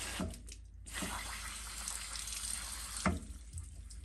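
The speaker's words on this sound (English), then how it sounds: "You got some water coming out of there" Water runs and trickles steadily close by from an old radiator vent on a home heating system, with a couple of sharp knocks and hisses breaking through the flow.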